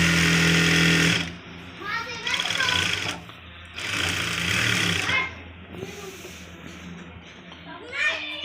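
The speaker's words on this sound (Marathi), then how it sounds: "फुल हाय स्पीड मशीन आहे." A full high-speed sewing machine stitching blouses runs in loud rattling bursts, stopping and starting several times, with someone talking between runs and children's voices nearby.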